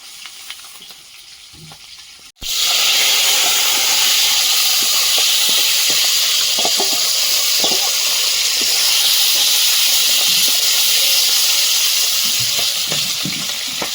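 Fish drops into a hot wok after a quiet moment, and a loud, dense sizzle bursts out suddenly and continues steadily at close range, with faint crackles throughout.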